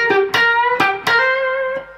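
An electric guitar plays a short blues phrase in C with a 12-8 feel, several plucked notes ringing with bright harmonics, close and clear with no talking.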